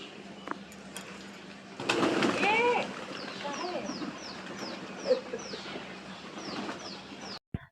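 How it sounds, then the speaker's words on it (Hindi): Calls from a large flock of pigeons: a burst of chirping and cooing, then a run of short, repeated falling calls at moderate distance over steady background noise. "इतने सारे कबूतर।"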